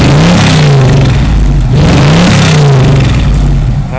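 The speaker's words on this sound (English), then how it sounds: "let them rev it up just so you can hear what it sounds like from behind" A small, well-running engine being sold at auction is revved hard, heard from behind, loud and close, with rising and falling revs in repeated surges over a steady idle rumble.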